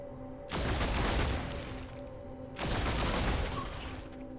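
Two long, dense bursts of rapid gunfire from the video game Warhammer 40000: Deathwatch, each roaring for about two seconds with a short pause between, loud and close over a steady low hum.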